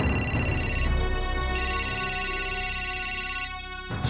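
A telephone ringing with an incoming call, its bright electronic ringtone pulsing steadily in repeated bursts with short pauses between, loud and close with no voices over it.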